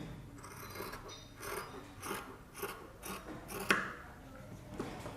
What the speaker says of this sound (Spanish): Y cortamos esta partecita que marcamos.